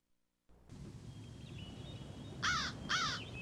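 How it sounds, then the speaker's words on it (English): A crow caws twice in quick succession in The Dark Fables of Aesop video game, loud and near over a low steady background hum, with no speech. "Crow."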